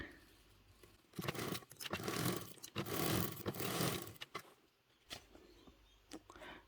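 A sewing machine stitches fabric for a water or wine bottle crossbody bag, including back stitching, running in a steady whirring burst of a few seconds that stops and starts briefly again, close up with no talking.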